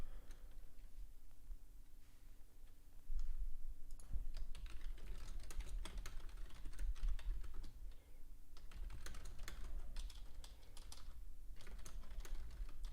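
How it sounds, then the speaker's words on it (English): Quiet, rapid clicking of computer keys in irregular bursts, with brief pauses between runs of typing and no voices. "If you do hear typing, you're not hearing things."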